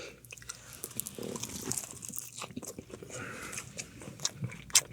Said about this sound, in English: All right, let me take a bite.